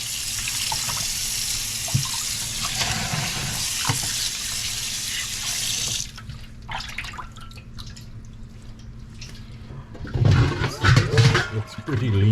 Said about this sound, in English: I'm starting by washing it off. I just give it a rinse.